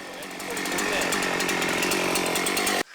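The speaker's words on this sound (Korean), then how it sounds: "언제 고장 났나 싶게 전기톱이 경쾌한 소리를 내며 작동합니다." A freshly repaired chainsaw runs steadily at high revs, a loud, close, buzzing engine roar that holds constant for several seconds before cutting off abruptly near the end.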